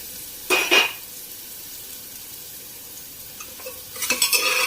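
Onion and garlic cooking in a pan, with two short bursts of stirring scrape and sizzle over a faint steady frying hiss, close and moderately loud.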